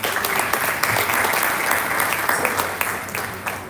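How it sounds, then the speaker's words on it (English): Steady applause from an audience, a dense wash of clapping that holds throughout and fades slightly toward the end. "please clap for yourselves."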